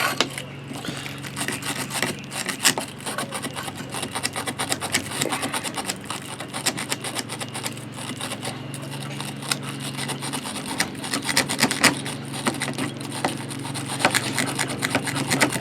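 A battery cleaner brush scrubs caked-up barley mill rollers, producing a steady, continuous rasping rub with a low mechanical hum running underneath throughout.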